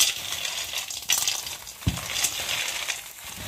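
Nuts being roasted in a pan for a homemade nut pickle, heard as a faint, close scraping and stirring rattle with a few small clicks and knocks.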